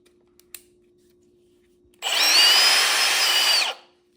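Milwaukee M18 Super Hawg cordless drill set to low speed, running freely with a loud close motor whine for nearly two seconds before stopping and winding down, after a few soft clicks and handling noises.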